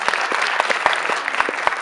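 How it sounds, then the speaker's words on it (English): Listeners at a digital business pitch event applaud after a presentation, a close, loud, continuous patter of hands with a few sharper individual claps standing out. "Give a round of applause, yes."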